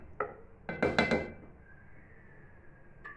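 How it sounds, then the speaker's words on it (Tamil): A metal lid set on a pot of crab gravy simmering on a stove, with a few sharp clinks and rattles close by, then quiet with a faint later clink. "நான் ஒரு மூடி போட்டு வச்சிடுறேன்."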